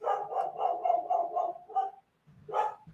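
A dog barks repeatedly in a quick, steady series of loud nearby barks, pauses briefly, then lets out one more bark.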